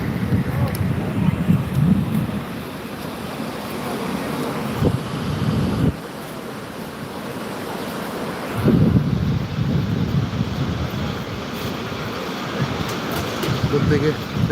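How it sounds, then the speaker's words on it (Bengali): Surf washing onto a crowded New Digha beach on a Sunday evening, a steady roar of waves with heavy wind buffeting the microphone, swelling and dipping across the stretch while voices murmur faintly in the background. "বেশ জমজমাটি রয়েছে আজকে সন্ধ্যের নিউ দীঘার সৈকত"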